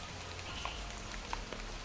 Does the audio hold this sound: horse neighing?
no